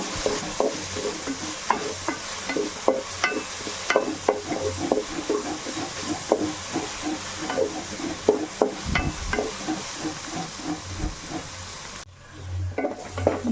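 Onions sautéing in a pan for a coconut-milk Kerala chicken curry, with a steady sizzle under frequent clinks and scrapes of a spoon stirring against the pot, no talking.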